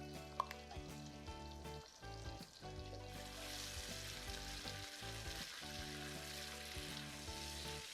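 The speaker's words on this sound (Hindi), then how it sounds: "अब इस बटर में पकेगा हमारा अमेजिंग गार्लिक एंड मिर्ची चटनी जो हमने बनाई थी वो" Garlic and chili chutney frying in butter for pav bhaji, a soft continuous sizzle with light bubbling, steady throughout with no voices.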